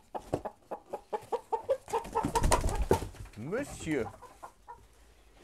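Hens in a henhouse clucking in a quick, rhythmic series of close clucks as a rooster is let in, followed by a louder flurry of squawks and calls, with someone speaking briefly.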